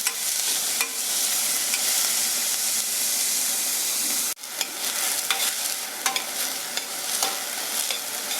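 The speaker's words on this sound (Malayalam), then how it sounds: "ഇങ്ങനെ സവാള ഏകദേശം വഴണ്ട് തുടങ്ങി, കളറൊക്കെ ചേഞ്ച് ചെയ്തു." Onions frying for a red lentil dal tadka are stirred in a pan: a loud, continuous frying hiss, then a sudden break followed by repeated scraping stirs over the sizzle, with no speech.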